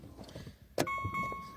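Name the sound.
car engine starting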